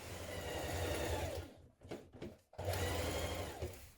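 Sewing machine stitching the side seams of a coat with a 1 cm seam, a steady close mechanical whir that pauses briefly in the middle with a few short bursts before running on continuously.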